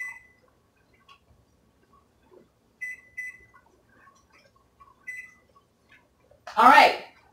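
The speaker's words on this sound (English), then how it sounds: "I'm going to start my timer for 90 minutes" A kitchen timer gives short high electronic beeps, a few brief chirps in pairs spaced apart, while navy beans are being pressure canned, followed by a louder rushing burst at the end.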